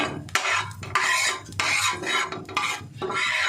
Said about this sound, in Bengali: এই যে বাটারটা গরম করে দিয়েছি। এবার স্যান্ডউইচগুলো আস্তে আস্তে ছেড়ে দেবো।